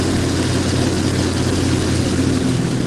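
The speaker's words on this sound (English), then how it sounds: "Those engines starting to wind down." Aircraft engines winding down in Nanton: a loud, steady engine drone with a low hum and whine fills the air, constant throughout, with no voices.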